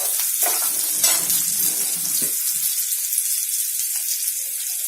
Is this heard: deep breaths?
no